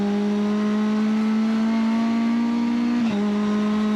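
A race car laps the Ledenon circuit, its engine holding a loud, steady high drone that climbs slowly before a sharp dip near the end as the gear or throttle changes, heard from inside the car with no talk.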